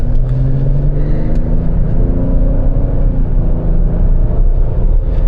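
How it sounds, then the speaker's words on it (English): A 2021 Ford Explorer Platinum AWD heard from inside while driving, its engine droning loud and steady as the transmission downshifts, with rising and falling engine tones and no talking. "Very smooth transmission. Nice downshift."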